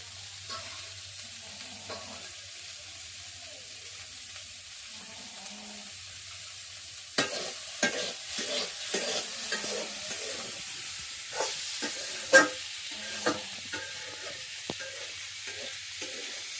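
Vegetable bhaji sizzles in a frying pan, quiet at first, then a spoon or spatula scrapes and clatters against the pan in an irregular run of close strokes over the steady frying hiss.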